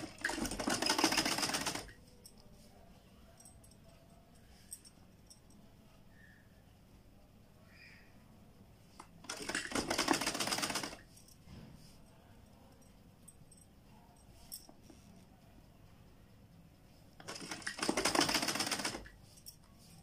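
Sewing machine stitching a round neck design on a garment, three short rattling bursts of stitching separated by long quiet pauses, fairly faint.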